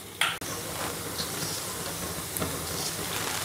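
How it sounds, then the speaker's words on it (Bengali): Lentil fritters (daler bora) fry in hot oil, a steady close sizzle with a sharp clack of a utensil near the start. "সব কটা বড়া ভেজে নিয়ে আর কটা ভাজি"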